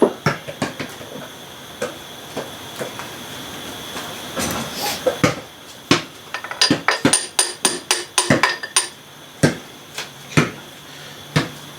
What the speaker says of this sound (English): my assistant will catch the piston as we tap it out here on the other side